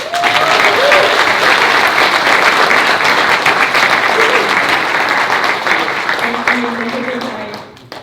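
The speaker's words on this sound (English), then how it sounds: "please make her feel less nervous with a big round of applause" A large audience at a live property-market meetup gives a big, sustained round of applause, dense and loud for several seconds before tapering off, with a few voices mixed in.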